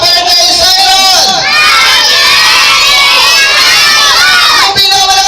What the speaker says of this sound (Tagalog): Let's shout happy birthday, Siron!